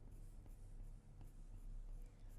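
A pen or marker drawing a line on a paper dress pattern, a soft continuous scratching stroke close up and quiet, with no other sounds.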